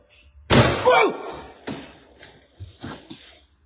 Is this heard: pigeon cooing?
no